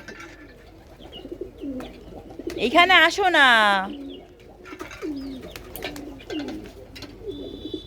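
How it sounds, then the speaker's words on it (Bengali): Pigeons coo repeatedly on a rooftop as they gather to feed, with soft rolling calls throughout and a louder burst in the middle. A person speaks briefly nearby. "পায়রাগুলো সব খেতে চলে এসেছি"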